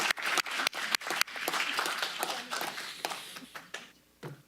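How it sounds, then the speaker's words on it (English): Attendees at a Sutter County Supervisors meeting applaud after a presentation, a few sharp claps opening into brief scattered clapping that thins out and fades, moderately quiet in the room. "Let's give them a round of applause."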